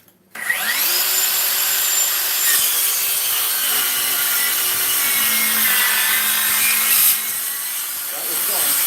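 A 3-inch screw driven into wood by a power driver: a steady, loud grinding whir that starts abruptly and runs for about eight seconds, rising slightly near the end before easing off.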